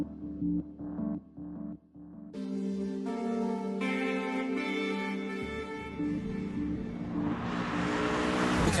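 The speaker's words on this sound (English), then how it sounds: "California is supposed to be a user-friendly Ferrari, not quite as hardcore as a 458 Italia, for instance, but it's still a true sports car" A Ferrari California sports car accelerates hard, its engine climbing through the revs with gear changes and building to a loud, high-pitched howl, heard up close without talk.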